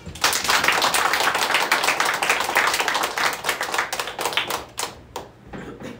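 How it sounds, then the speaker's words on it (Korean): An audience claps in a church service to celebrate a pastor receiving an appointment, with dense, steady applause that thins into scattered claps near the end. "우리 손뼉 쳐서 감사하며 축하합시다"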